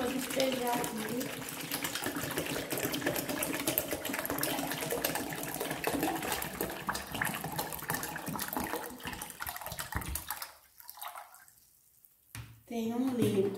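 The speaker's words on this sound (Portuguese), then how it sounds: "Aqui tem 1 litro, vou despejar aqui." One liter of liquid pours steadily into a container for homemade lavender bleach, a continuous close gush that later breaks off, with someone talking over it.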